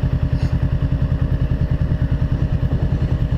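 Honda CBR500R motorcycle engine running steadily while riding, a close, loud, rhythmic mid-pitched drone with a regular pulsing throb throughout, no voices.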